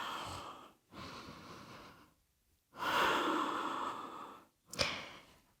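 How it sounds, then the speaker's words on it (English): Slow, audible breaths in a yoga session: two long, airy exhalations like sighs, then a short sharp snort-like intake, close and quiet with pauses of silence between. "Breathing."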